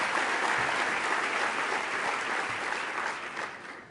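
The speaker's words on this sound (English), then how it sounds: "let's give another round of applause to our previous commitment makers" A conference audience at CGI America 2013 applauds in a full, even round of clapping that gradually thins and softens toward the end, with no talking.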